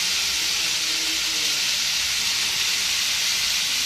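Steady, loud hiss of chopped potatoes frying in a pan with nigella seeds and turmeric, a continuous broadband sizzle with no breaks and no voice over it.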